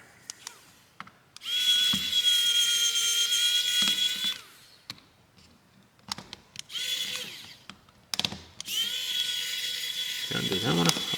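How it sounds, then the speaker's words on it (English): A FoxxD Miro S67 5G phone has screws backed out with an electric screwdriver, heard as three sustained high-pitched whirring runs of a couple of seconds each, separated by short pauses with small clicks, close and fairly loud. "Get all the screws out. Let's grab our handy screwdriver."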